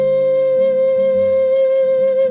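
A Native American-style flute holds one sustained, pure, breathy note near and clear throughout, with faint low tones shifting softly beneath it.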